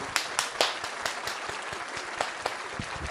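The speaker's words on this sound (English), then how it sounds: "And they're applauding." Audience at a stand-up comedy show applauding, a steady wash of clapping with scattered sharper individual claps, moderately loud and continuous with no talk over it.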